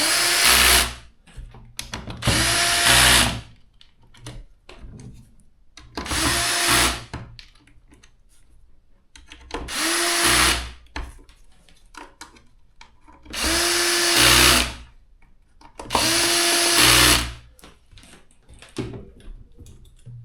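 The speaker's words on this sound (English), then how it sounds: "Now I can switch it to electric, tighten it a little bit." Electric screwdriver tightening screws on a Funwheel scooter rail, six loud whirring bursts of one to two seconds each, separated by short quiet pauses, with no talk.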